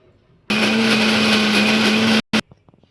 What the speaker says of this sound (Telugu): దాంట్లో ఇప్పుడు ఈ ఎల్లిపాయలు అల్లం ముక్కలు వేసుకొని మిక్సీ పెట్టుకుందాం